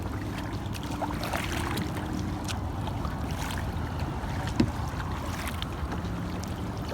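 A boat being paddled along a river, with soft water splashes and occasional knocks over a steady low rumble of wind and flowing water.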